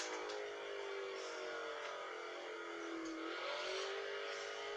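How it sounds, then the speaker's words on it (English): A Mercedes-Benz SLK 55 AMG engine drones and revs steadily at close range, pitch sliding down and then climbing again, with a continuous whirring roar. "If you love screeching tyres and a very loud roaring engine and spinning around a lot"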